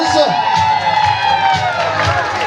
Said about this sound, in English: Another round of applause for the wedding party